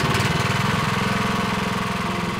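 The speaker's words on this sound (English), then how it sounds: "So to start your engine, just go ahead and flip that on." A garden tiller's engine runs close by with a loud, steady, throbbing chug that keeps an even pulse throughout.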